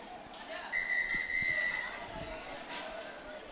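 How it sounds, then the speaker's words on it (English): A referee's whistle at an under-16 basketball grand final shrills in one sustained blast of about a second, steady and fairly close, over faint crowd murmur and scattered court noise. "First whistle goes."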